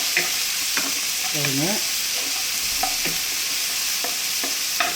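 Tomatoes sizzling and frying in a pan while a spoon stirs them in short scraping strokes, a woman's brief remark heard over the steady crackle.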